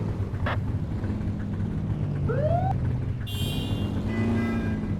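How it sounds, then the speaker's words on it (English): A police car siren in the video game The Precinct sweeps upward in short wails over a steady engine drone, then a sharp high electronic tone takes over, loud and close. "Get behind them and flip the siren to make them pull over"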